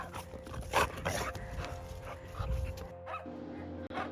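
A dog named Kylo barks and yips repeatedly at an animal shelter, close and fairly loud, with other shelter noise in the background and a lull near the end.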